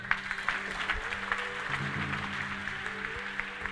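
A church congregation clapping in praise of Jesus, a moderate continuous patter of applause heard at some distance, with a low musical hum underneath.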